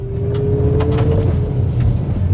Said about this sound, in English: flying down these washboard roads, around corners, hitting huge bumps at probably higher speeds than I really should